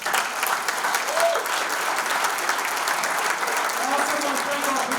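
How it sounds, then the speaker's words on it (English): Sustained applause from an audience at a Hall of Fame ceremony, honoring the selection committee; steady, dense clapping fills the room throughout with a faint voice or two underneath. "Give them a big round of applause."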